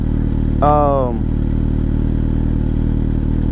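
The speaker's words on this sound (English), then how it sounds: "So all you have to do is just restart the bike once you stall." Motorcycle engine restarting after a stall: a brief whirring crank-and-catch burst, then a steady, loud idle running close by, with no talk.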